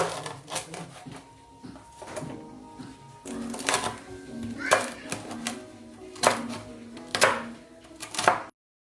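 A knife crunches through crispy fried pork belly, lechon kawali, on a chopping board in a series of sharp, crackly cuts with uneven spacing, close up and clear, with soft talking in between.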